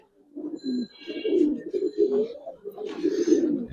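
Giribaz and coloured pigeons coo close by in a series of loud, throaty, rolling coos with short pauses and a few faint higher chirps.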